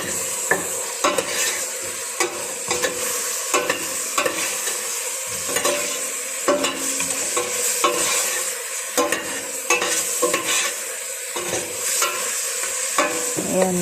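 Mulukhiya cooking in a pot with cinnamon and garlic powder added, stirred with a spoon that clinks and scrapes against the pot in quick, uneven strokes over a continuous bubbling sizzle, heard up close with no voices.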